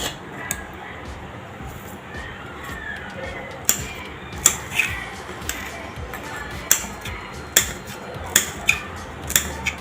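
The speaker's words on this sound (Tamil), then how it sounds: "இந்த பச்சை மிளகாயை இதே மாதிரி 1-2 கட் பண்ணி வச்சுக்கணும்" A knife cuts green chillies on a board, sharp clicking taps that grow more frequent and distinct in the second half, while a voice talks throughout.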